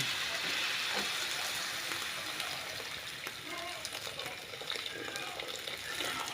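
Hot water poured into a pan of chop suey, causing a steady sizzling, bubbling hiss that carries on without a break.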